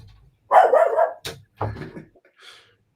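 A dog in an upstairs apartment barks in a few loud bursts with short yips and pauses between them, muffled yet distinct, with no one talking.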